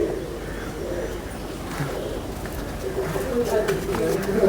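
Soft, low cooing of a breeder's pigeons repeats in a steady murmur beneath someone talking nearby, with faint background chirps.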